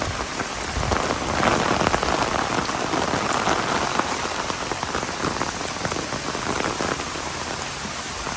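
Heavy rain pours down hard and steadily on surfaces around a house under construction, a dense, loud, continuous hiss with no voices.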